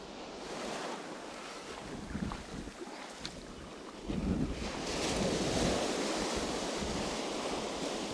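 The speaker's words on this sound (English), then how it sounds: "That westerly wind is freezing" Cold westerly wind blowing across an open beach, buffeting the microphone in rough gusts over a steady rush of surf, loud and continuous with no voices.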